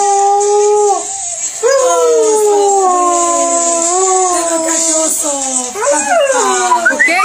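A dog howls along to music in long, wavering, sliding cries, loud and close, breaking off briefly and then resuming with rising yips near the end, while a person speaks in the background.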